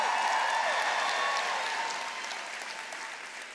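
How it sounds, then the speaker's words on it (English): Audience applause at a large Disney Parks expo panel, steady clapping from a crowd that slowly fades over a few seconds. "How about another huge round of applause for them with a little bit of the handkerchief?"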